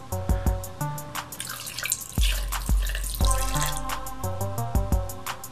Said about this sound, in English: I'm gonna go ahead and pour a little bit in Triple D's cup.